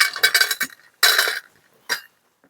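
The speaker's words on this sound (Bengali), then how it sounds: "টিফিন কৌটোর মধ্যে প্রথমে বড়িগুলো দিয়ে দেব" Dried lentil dumplings are dropped into a tiffin box in three close clattering bursts of hard, clinking knocks, loud and near, separated by short silences.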